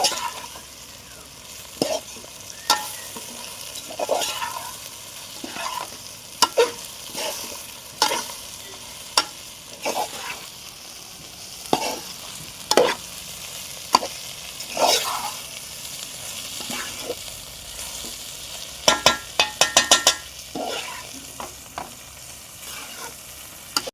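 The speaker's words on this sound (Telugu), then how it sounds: "ముక్కలకు మొత్తం పట్టేలాగా అయితే బాగా మిక్స్ చేసుకోవాలండి." Okra pieces coated in garlic chili powder stir-fry in a pan under a constant soft sizzle, broken by regular scraping knocks of a spatula every second or two and a flurry of quick clatters near the end.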